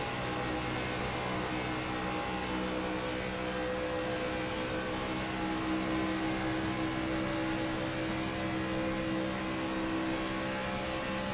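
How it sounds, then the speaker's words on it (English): A race car engine holds high RPM with a continuous droning whine and broadband roar, steady and unbroken, heard from trackside during a Scrambler Series season opener. "Those RPMs staying way up high on that."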